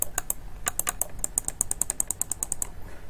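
A cheap computer mouse clicking its left and right buttons, producing quick, irregular, crisp clicks at close range, with no voices.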